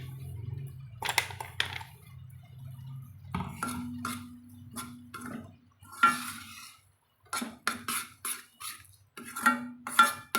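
Ground spice powder stirred into gongura chutney in a pan, quiet scraping and intermittent metal clinks of a spoon against the pan in short bursts with pauses.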